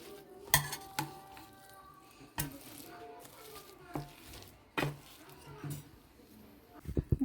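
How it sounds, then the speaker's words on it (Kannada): Burger mixture with onion and spices being smashed in a pan at home: scattered metallic clanks and scraping clinks of utensil against cookware, fairly quiet, with a voice talking in between. "ಚೆನ್ನಾಗಿ ಸ್ವಲ್ಪ ಸ್ಮ್ಯಾಶ್ ಮಾಡೋಣ."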